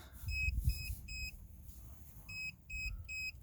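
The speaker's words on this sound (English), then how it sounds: "You'll see it's detecting and it's beeping." A Tacklife T-8 jump starter pack beeps in two quick bursts of three sharp electronic tones as its clamps connect, faint against a low background hum.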